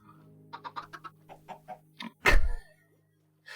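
Minecraft chickens cluck in a quick series of short, close clucks, followed by a louder, harsher burst of sound and then quiet.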